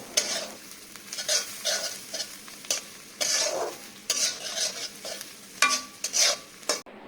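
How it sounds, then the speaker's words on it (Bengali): Chopped onions and green chilies frying in spiced oil, a steady sizzle broken by repeated scraping stirs of a spatula against the pan, close and alone. "এতে কেটে রাখা পেঁয়াজ এবং কাঁচামরিচ অ্যাড করব হালকা বাদামি হওয়া পর্যন্ত ভালো করে ভেজে নিব"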